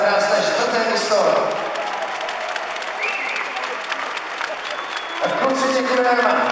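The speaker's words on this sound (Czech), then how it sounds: "Tak já myslím, že juniorů můžeme zatleskat za krásné 4. místo." An audience applauds a junior team at a 2013 season trophy presentation: dense, sustained clapping that eases through the middle and swells again near the end.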